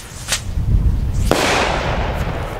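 A Cafferata Mad Dog Thunder firework rocket whooshes up, then a single sharp bang rings out, followed by a broad lingering crackle that slowly fades.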